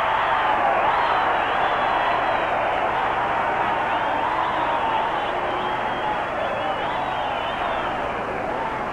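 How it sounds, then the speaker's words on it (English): Wrestling arena crowd roaring wildly after a sleeping-hold win in a 1952 two-out-of-three-falls match, a dense, steady wall of cheering and shouting throughout with no break. "Talk about a crowd going absolutely crazy"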